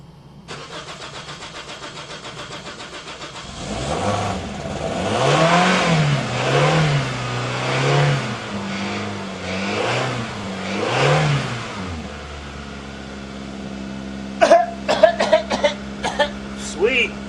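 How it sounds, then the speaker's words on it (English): A Toyota Corolla gasoline engine flushed after being filled with diesel cranks for several seconds in a rough, pulsing rhythm, then catches and settles into a steady idle, followed by a few sharp clicks near the end. "hold the gas pedal halfway down and crank her and see if she's going to start"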